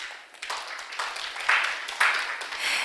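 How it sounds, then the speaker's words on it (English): Audience applause for a presenter at an online pitching event, a steady patter of clapping that swells a little and holds for a few seconds. "please give him another round of applause"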